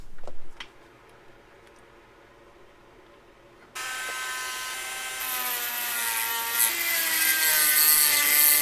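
A Dremel rotary tool cuts through a brake line part from a Chase Bay R34 brake line kit, starting abruptly partway in as a loud, steady high whine that holds and climbs slightly in pitch, close and alone without talk.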